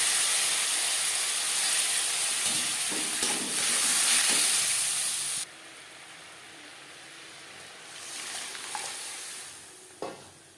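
Boiled moong dal tipped into hot oil with fried cumin and dried red chilli gives a loud, steady hiss that drops sharply partway through, settling to a softer sizzle with light stirring clinks.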